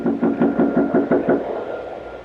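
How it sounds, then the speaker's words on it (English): Repeated knocking on a front door, about seven quick raps in a steady rhythm, close and fairly loud, then fading to quiet room tone. "Then he knocks again."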